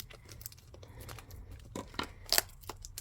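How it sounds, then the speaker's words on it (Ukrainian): Crinkly plastic film being peeled off a package, rustling and tearing close up, with a sharp louder rip near the end, no voices. "Давайте зніму плівочку, воно, може, зараз вам блікує."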